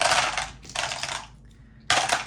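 Wargame dice being swept up and gathered from a table, giving three bursts of bright clattering rattle, each loud and close. Short gaps separate the bursts and no one talks.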